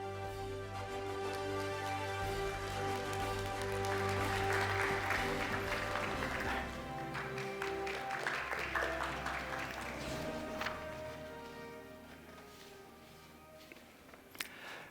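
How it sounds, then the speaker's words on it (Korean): Audience applause at a conference hall, steady sustained clapping from a large crowd that swells, then fades over several seconds under a constant low hum. "여러분들의 큰 박수로 함께 하겠습니다"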